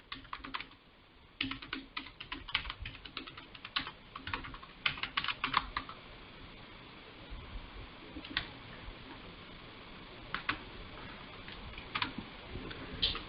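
A username typed on a computer keyboard in the Eclipse IDE, irregular clusters of light key clicks with short pauses between bursts, quiet and close.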